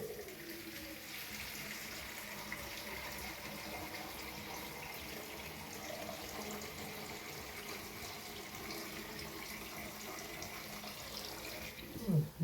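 Water runs steadily from a tap, a soft constant rush with faint background noise, ending in a brief bump.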